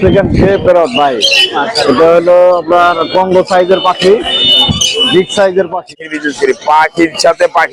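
Loud, dense squawking and chattering of many birds close by at the Mirpur bird market in Dhaka, mixed with people talking over the din.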